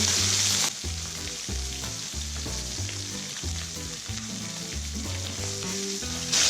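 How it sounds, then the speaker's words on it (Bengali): Silver carp pieces sizzle loudly in hot oil, a continuous crackling fry with occasional stirring and turning in the pan. "এরকম করে ভালো করে উল্টে পাল্টে মাছগুলো ভেজে নিতে হবে।"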